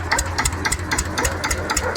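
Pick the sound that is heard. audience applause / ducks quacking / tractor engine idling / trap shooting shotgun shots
tractor engine idling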